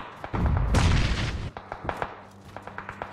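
Gunfire in the battle royale game PUBG: a loud burst of shots that starts with single cracks and swells into a dense volley, then thins to sharp, scattered, distant pops.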